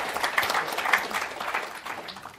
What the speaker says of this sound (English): So please, I applaud you all.